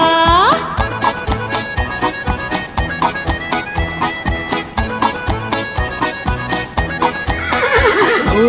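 A horse whinnies over a children's Hindi nursery rhyme, followed by rhythmic clip-clop hoofbeats galloping steadily beneath bright backing music, with another neigh near the end.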